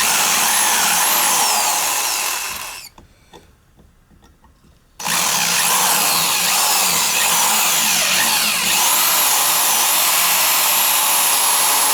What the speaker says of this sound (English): Just drill them out, and ain't rocket science.